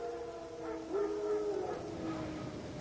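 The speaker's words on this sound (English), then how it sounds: "Wild dogs. Yes. More dangerous than wolves." Wild dogs howl in The Witcher 3 video game, a wavering mournful howl rising and sliding over a couple of seconds, moderately distant over low ambient background.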